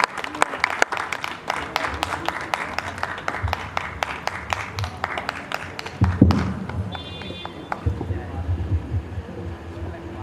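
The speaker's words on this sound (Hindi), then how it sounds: "कर जोरदार ताली समर्पित करिए" An audience at a Hindi poetry recital gives a poet a sustained round of dense, steady clapping for about six seconds. It then thins into scattered claps and room noise, with a voice briefly present.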